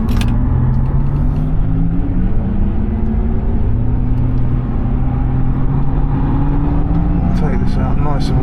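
A Porsche Taycan electric car lapping Silverstone circuit gives a steady, loud whirring drive drone with rising motor tones and road rumble throughout, and a voice talks briefly near the end.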